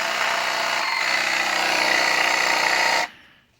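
A cordless battery angle grinder runs at a steady high-pitched whine for about three seconds, close and loud, then cuts off and winds down quickly.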